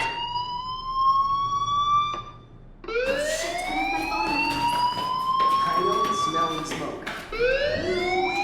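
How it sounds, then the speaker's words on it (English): Fire alarm ringing in the video game Life is Strange, a loud sweeping electronic wail that rises and repeats several times after a short pause, with a voice speaking over it. "Hey, do you hear that fire alarm? That means you should be outside."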